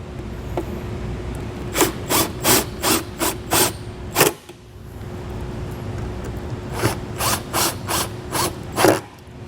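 A ratchet tightens the screws of a taillight on a 2021 Chevrolet, close rapid clicking strokes in two runs separated by a short pause.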